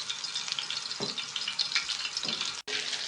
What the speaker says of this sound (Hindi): तवे पर हमने ऑयल डाला है, इसको पहले हम गरम कर लेंगे अच्छी तरह।